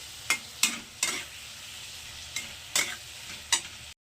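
Capsicum and onion sautéing in a pan, with a spatula scraping and tapping about six times over a soft, steady sizzle, close by and without talk.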